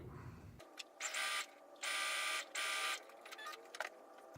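A sewing machine stitching a quilt panel, running in three short bursts of rapid whirring, each lasting about half a second to a second, separated by brief pauses with faint handling sounds.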